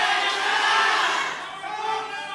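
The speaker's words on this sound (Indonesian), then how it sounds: "Kami silakan untuk pendukung paslon nomor urut 2 untuk memberikan tepuk tangan kepada paslon" Supporters of candidate number 2 at a regency head election debate raise a loud, continuous roar of crowd voices that swells and then eases slightly over a couple of seconds.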